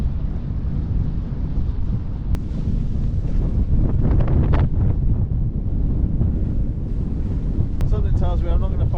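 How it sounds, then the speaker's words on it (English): Cold northerly wind blows hard on a boat at sea, a loud, continuous rushing roar buffeting the microphone with water sounds beneath, and a voice briefly heard near the end. "Bloody cold in this northerly wind."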